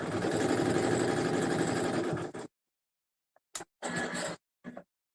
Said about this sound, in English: just sitting in front of this machine all day long, watching it stitch out